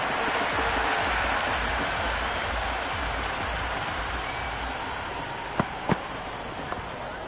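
Stadium crowd noise in a cricket video game swells as a broad, steady roar of cheering and applause, with a few sharp knocks near the end.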